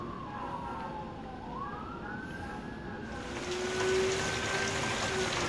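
A wailing ambulance siren sweeps up and down, joined by a second siren as the sound grows louder and closer over traffic noise, in the aftermath of a tornado in Pensacola.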